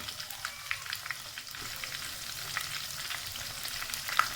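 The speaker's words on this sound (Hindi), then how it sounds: "हल्की हल्की जो है फ्राई हो जाएगी हमारी प्याज और हरी मिर्चें" Onions and green chillies fry gently in a pan, giving a soft, even sizzle with occasional faint crackles and a light stir, quiet and close.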